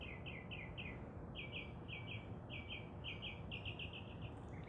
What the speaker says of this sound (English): I have some very happy birds today.